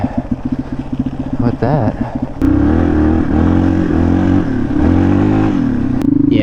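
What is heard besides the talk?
motorcycle engine revving on icy road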